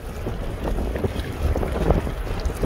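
Strong wind, with rain, roars and buffets across the microphone on a boat during a needlefish fishing trip, a steady, close, rumbling gust noise with no voices.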